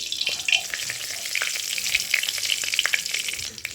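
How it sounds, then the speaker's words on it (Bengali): Dried red chillies and panch phoron (five-spice seeds) hit hot oil, giving a loud, dense crackling sizzle with sharp little pops scattered throughout, close by and steady for a few seconds, with no voices. "ওই তেলের মধ্যে আমি ফোড়নে দিয়ে দেবো শুকনো লঙ্কা আর পাঁচফোড়ন"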